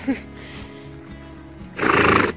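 A pony neighs in a loud, close whinny near the end, after quieter background sounds and some talking, during a birthday outing where the ponies graze on grass.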